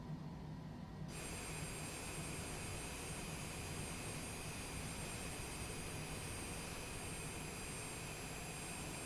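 The engines of a Citation Longitude business jet make a steady, even roar with a high whine on top that runs unbroken throughout, without any speech.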